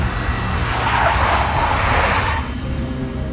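A big black Mercedes skids in the Max Payne video game, its tyres screeching in a loud, grinding rush that holds steady and then eases off near the end.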